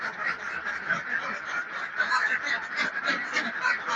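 A flock of laying ducks in their pen keeps up continuous overlapping quacks and honks, a busy, dense chorus close by with no talking.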